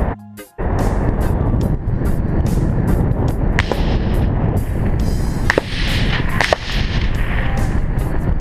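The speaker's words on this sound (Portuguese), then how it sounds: "Pessoal dando tiro aqui embaixo, ó." A few sharp, distant gunshots from a shooting range below pop through a loud, constant roar of aircraft engine and wind noise during a landing approach near Interlaken.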